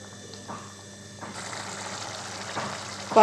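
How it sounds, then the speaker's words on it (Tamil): Tamarind water curry with tomato bubbling in a pot on the stove, a soft, quiet simmer that thickens slightly, with a sharper clatter at the very end. "புளி தண்ணி ஊற்றி நல்லா கொதித்து வருது"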